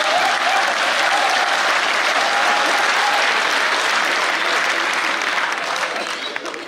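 Audience applause at a Hindi comedy poetry show, a dense, sustained roar of many hands clapping that holds steady before tapering off near the end.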